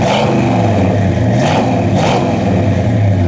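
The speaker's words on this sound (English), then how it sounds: "Rev it up a little bit, will you" Chevrolet 454 V8 revving through dual exhaust, a deep, loud, close engine roar swelling in a couple of throttle blips over a steady rumbling idle.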